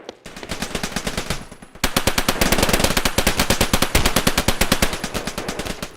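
Rapid automatic gunfire from a gun in a video game, heard as dense, loud bursts with a brief pause before a longer sustained stream of shots.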